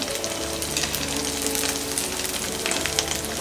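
Moong dal aloo tikki deep-frying in oil over a low to medium flame, with a continuous dense bubbling sizzle at an even, fairly loud level and no voices.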